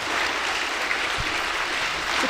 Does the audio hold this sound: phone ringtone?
no